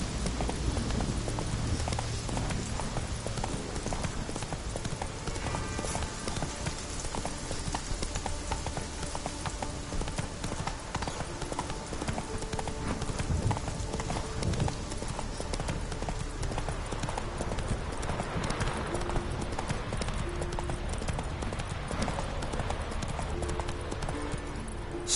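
Roach the horse gallops in The Witcher 3 video game, with steady rhythmic clip-clop hoofbeats running throughout alongside a continuous bed of game ambience and music, close and fairly loud.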